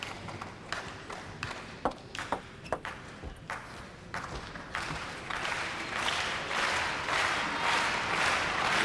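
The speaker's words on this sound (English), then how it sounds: "Listen to that crowd." Crowd applause rises and swells into a broad, steady roar in a table tennis arena during a men's match at a French Open tour event, preceded by sharp, sporadic ball pings and taps.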